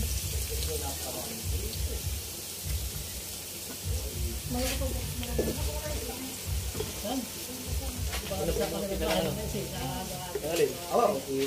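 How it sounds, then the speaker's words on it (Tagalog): Onion and garlic sauté together in a pan, a moderate sizzle running steadily beneath talking throughout. "Tayo po magigisa na. Sabayin na natin ang sibuyas at bawang."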